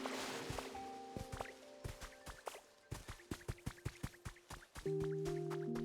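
Water drips and splashes in the Pokemon Pokopia video game, a quick run of short wet plops and taps with faint game chimes, moderately quiet with no talking.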